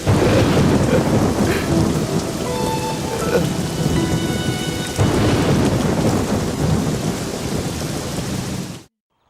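Heavy rain pours steadily while thunder rumbles loudly through the storm, ending abruptly in silence.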